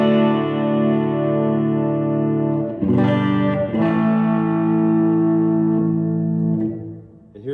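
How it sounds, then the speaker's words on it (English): An electric guitar rings out through a reverb pedal on its church setting, sustained chords blooming into a wide, lingering wash with a restrum near the middle and a long tail fading at the end, heard alone without talk. "And then I have my reverb pedal, which I have set to church right now."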